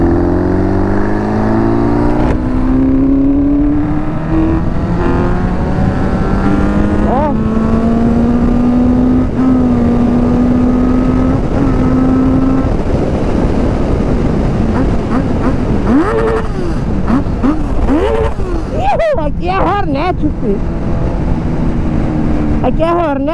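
A motorcycle fitted with a Honda Hornet engine and a 2-in-1 exhaust rides along a highway. Its engine note climbs and drops through gear changes, loud and close, with wind noise throughout and a voice speaking over it at times.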